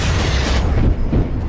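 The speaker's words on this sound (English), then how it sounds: "Freaking losers using a mortar strike to kill us." Mortar strike explosion in a Roblox war game: a loud, sustained rumbling boom with dense low-end roar that swells and rolls on for over a second, heard close and alone.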